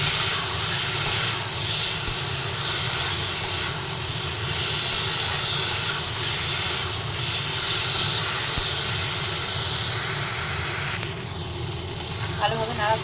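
Water poured into a spice mixture in a hot pan for a vegetarian dish gives a loud, steady sizzle and hiss that runs unbroken for the whole stretch, close and dense.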